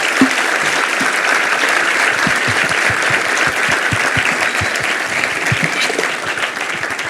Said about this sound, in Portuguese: uma salva de palmas para a democracia e para o prefeito Haddad.